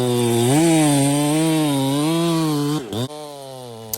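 A 365 chainsaw fitted with a muffler bites into big timber, a loud, steady high-revving whine heard close for nearly three seconds before it drops off and the cut stops.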